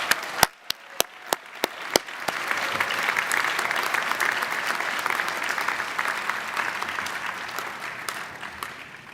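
An audience at a university commencement applauds after a performance by an ensemble and vocalists, starting with a few sharp separate claps that swell into steady, dense clapping filling the hall.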